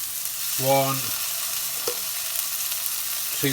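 Garlic and ginger paste goes into a hot pan for chicken tikka chasni, followed by a steady frying sizzle under a few light clinks and scrapes, close and even, with no talking.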